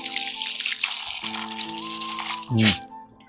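Water pours from a tap in a Canadian home, a steady close rush with a louder surge near the end before it cuts off, with no talking.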